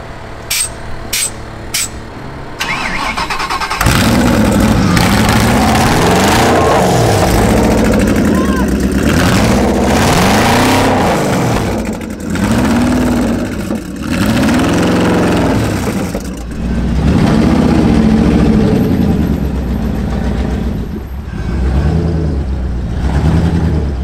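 A concept car's engine revs repeatedly, loud, rising and falling in surges, with an unusual buzzing, mower-like tone and someone talking over it.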